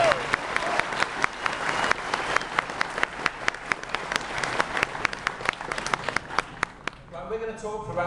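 Audience applause welcoming Nicky Wire at an interview event at Pryzm Kingston, a dense, steady clapping from a sizeable crowd that carries on for several seconds before dying away, with a few voices audible as it fades.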